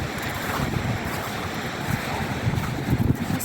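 Sea waves wash and surge continuously against the icy Whitby seawall, with gusty wind noise buffeting the microphone and louder swells building toward the end.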